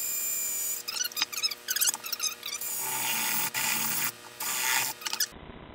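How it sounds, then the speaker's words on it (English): A power drill whirs in short bursts, its pitch rising and falling as it bites into a plastic bottle, then runs steadily before cutting off. "then go ahead with your power drill"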